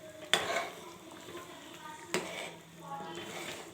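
Tomato chutney with spice powder stirred in a pan, two sharp scraping clanks of a utensil against the pan over a soft simmering sizzle, with quiet talk in between.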